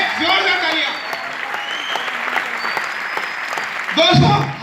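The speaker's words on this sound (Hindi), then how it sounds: "मैं चाहूंगा एक जोरदार तालियां होनी चाहिए उनके लिए, एक जोरदार तालियां" A business-event audience breaks into applause for a mentor, with clapping running under a voice at the start and again as speech returns near the end.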